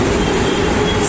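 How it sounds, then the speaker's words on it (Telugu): Metro train passing overhead beside the Uppal skywalk, a loud sustained rolling rumble and roar from close by. "అండ్ పైన నుంచి మెట్రో వెళ్తుంది."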